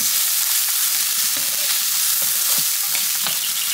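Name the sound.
tocino sizzling as it fries and browns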